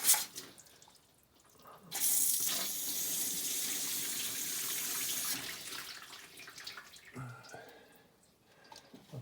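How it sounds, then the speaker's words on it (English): Water sprays and gushes steadily through a car heater core for several seconds, a loud hissing rush that tapers off into drips and trickling, with no voices. "Spray some water through here."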